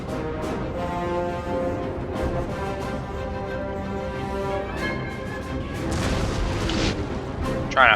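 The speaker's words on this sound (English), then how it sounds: "The cannons are doing a massive amount of damage to these troops here" Cannon artillery volleys in the Napoleon Total War battle game, a dense steady barrage of booms and crackling gunfire rolling continuously with a sharper burst near the end, mixed with battlefield din.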